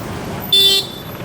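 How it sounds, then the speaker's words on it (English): A short car horn toot on a busy Pattaya street, one bright honk lasting about a quarter second over steady traffic rumble, fairly close and loud. "You do not normally get honked at here."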